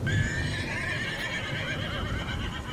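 A horse neighs on a roadside at night, a drawn-out whinny with faint hoof sounds, loud and close over a steady background hum.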